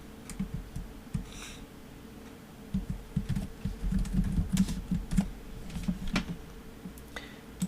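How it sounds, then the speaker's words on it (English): Rapid, irregular clicking of fingers typing a name on a computer keyboard, close and fairly quiet, in short bursts with small pauses and no talking. "type in your name"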